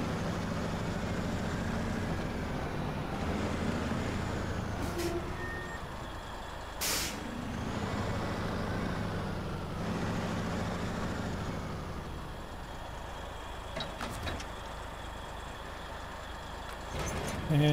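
A V16 truck engine in the SnowRunner video game, hauling an attached truck across a river: a continuous heavy engine rumble and drone with occasional air-brake hisses and beeps, steady and close.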